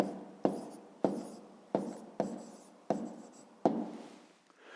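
A pen writes out a fifth-grade math exercise on paper in six quick scratchy strokes, each one starting sharply and fading, close and quiet with no voice.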